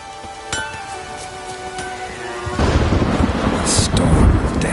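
A thunderstorm with rain in the video game The Witcher 3: quiet ambient tones give way midway to a loud, steady wash of rain hiss that swells toward the end.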